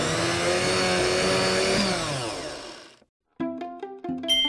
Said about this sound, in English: Put 4 more pieces of watermelon into the blender.